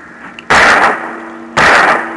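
Two loud, close gunshots in the Alan Wake video game, about a second apart, each a broad booming blast that decays quickly, with no talk over them.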